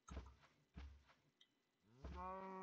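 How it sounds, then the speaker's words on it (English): Minecraft cow mooing in a single-player game, several low bellowing moos, the last one longer and rising, fairly quiet with short pauses between calls and no speech. "Aren't all cows in Minecraft female?"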